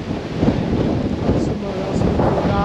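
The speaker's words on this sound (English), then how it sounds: "as you can tell it's very windy and the tarps will probably be on their limit" Strong wind roars across a hilltop camp with tarps pitched, a constant loud buffeting rush that batters the microphone throughout and gusts slightly with no pause.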